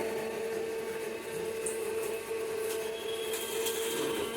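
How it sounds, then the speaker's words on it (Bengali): Mixer grinder whirring as it grinds mustard paste in a home kitchen, a steady mid-level motor drone with a sustained tone and faint rattles, no speech. "এখানে আমার সর্ষে তৈরি হচ্ছে মিক্সারে।"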